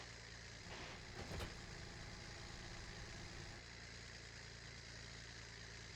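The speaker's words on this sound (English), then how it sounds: "This tractor has always been on this game for me to use." A tractor engine idles in the farming video game This is my land, a steady low rumble with a brief louder bump early on, continuous throughout and without talk.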